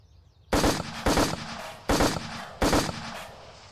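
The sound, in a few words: gunfire from a VR shooting range video game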